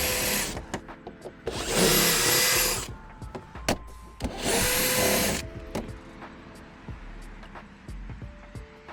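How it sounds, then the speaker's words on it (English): A power drill with a 10mm socket spins out fender liner bolts on a Jeep Wrangler, sounding in two loud, close whirring bursts of a couple of seconds each, separated by clicks and rattles of handling. "If you have a drill and a 10mm socket, definitely use that to get those out"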